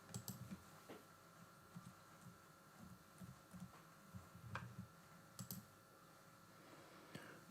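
A password goes in on a computer keyboard as light, scattered key clicks, sparse and fairly quiet, with a few small bursts of taps and a louder click at the end.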